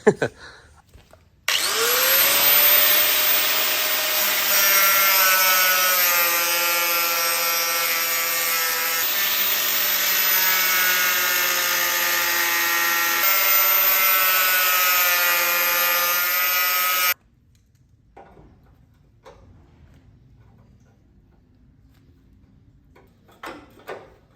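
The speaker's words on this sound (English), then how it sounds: "So I'm gonna have to get the grinder and I'm gonna have to grind this front thing off to get that off." An angle grinder cutting off a front part of a Toyota Hilux prerunner, starting with a sudden loud steady whine that holds for about fifteen seconds and then stops, leaving faint handling noises.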